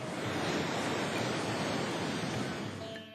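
Steady, loud roar of ocean surf near the Lion Gate of the Jagannath temple in Puri, a continuous broadband wash of breaking waves with no voices, easing off slightly at the end.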